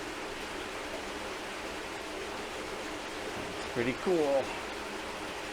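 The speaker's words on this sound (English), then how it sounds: "Don't really see water running here. Sure do hear it." A mountain stream in a Blue Ridge forest rushes steadily as a constant broadband wash, with a brief spoken remark near the end.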